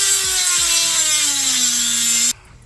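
A Dremel rotary tool cuts through metal while installing car interior LED lights: a loud, steady high-pitched whine with a slowly falling tone for about two seconds, then abruptly stops.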